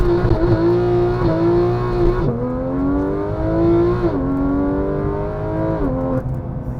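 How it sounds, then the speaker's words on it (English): Porsche with PDK transmission launching hard under launch control, loud continuous engine roar climbing through several quick gearshifts, each shift marked by a brief dip before the pitch rises again. "Launch control in the Porsche is just hilarious."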